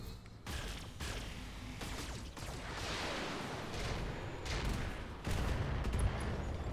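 Weapons fire in the Roguetech BattleTech mech combat game as a loud, continuous barrage of gunfire and explosions with overlapping booms and volleys that swell and surge throughout.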